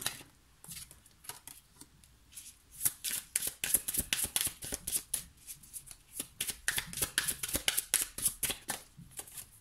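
A deck of tarot cards is shuffled by hand close up, with soft riffling and flicking in quick uneven bursts that grow busier toward the end. No one speaks.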